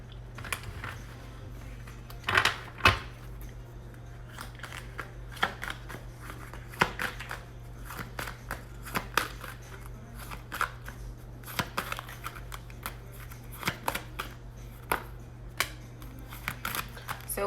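Tarot cards are shuffled by hand, a quiet run of soft riffling clicks and snaps with scattered sharper taps, steady and close over a low background hum with no talking.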